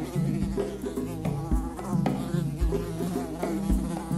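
A housefly buzzes around the wound of an elephant, its steady insect drone continuing close and clear throughout, with a few brief low thumps underneath and no talking.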